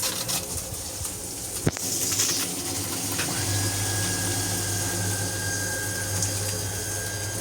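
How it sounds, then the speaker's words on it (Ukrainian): A shower runs in a small autonomous bathhouse, a steady hiss of spraying water with a low pump-like hum and a thin tone joining partway through, with no talk. "вмикаємо душ і ось він у нас працює"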